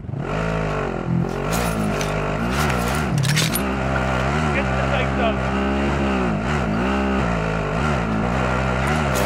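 A vehicle engine drones continuously in the Warzone video game, pitch rising and falling as it accelerates and shifts, loud and steady throughout while players talk over it.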